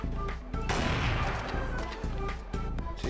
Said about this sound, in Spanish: Se me han escapado dos tiros.